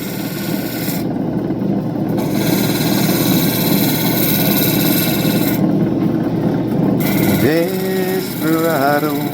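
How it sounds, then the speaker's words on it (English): Andamooka matrix opal grinds against a spinning finishing wheel in a loud, steady rasping whir that stops and restarts, then gives way to a voice singing at the end. "Okay, ready for the finishing wheel."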